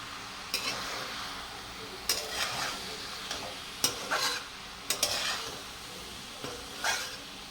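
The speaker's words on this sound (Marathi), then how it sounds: "चांगलं फुल गॅसवर मी परतून घेते" Chicken keema with potato being stir-fried in a pan over full flame, with a soft continuous sizzle broken by several sharp scraping stirs of the spatula at irregular intervals, close by and with no talking.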